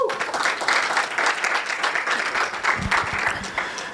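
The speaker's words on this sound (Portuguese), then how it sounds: "palmas para ele" Applause from an audience at a Django programming talk, moderately loud and continuous, a steady wash of many hands clapping that holds throughout with a faint voice underneath.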